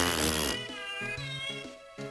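A cat meows in a mystery video game: a loud, bright cry opens the clip, followed by a string of shorter, fainter mews in an uneven rhythm over a steady musical drone.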